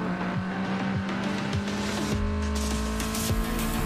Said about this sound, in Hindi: एक कार तेज रफ्तार के साथ रोड पर गुजर रही थी